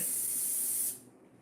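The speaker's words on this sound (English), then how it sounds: "Okay, let's spray it down." A loud, close hiss from a spray can for just under a second, then it cuts off, leaving quiet background.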